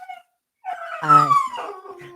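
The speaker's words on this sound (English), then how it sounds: "that's my dog, so I'm sorry," A dog whimpers and then lets out a rising, wavering howl close by, after one brief word from a person.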